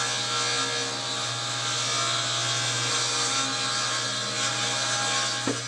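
A table saw rips through rough lumber with a loud, continuous droning whir and rasping cut, a steady motor hum underneath, ending with a short knock as the piece clears the blade.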